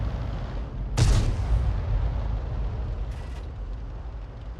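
Tank main gun firing in a tank video game, one heavy boom near the start followed by a rumbling tail and a fainter second crack.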